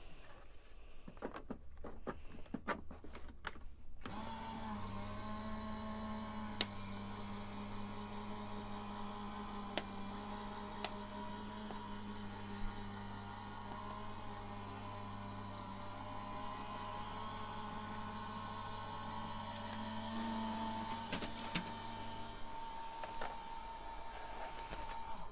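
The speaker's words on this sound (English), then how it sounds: "I'm going to run that through my die machine." A die cutting machine runs steadily with a low mechanical drone and whir, close and even for more than twenty seconds. It starts after a few seconds of rustling handling and a few sharp clicks.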